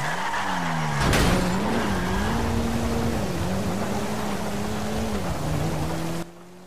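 A civilian car driving down the road in GTA 5 Online, its engine droning steadily with gear-like pitch shifts and a sharp bang or skid near the start, then fading off abruptly at the end.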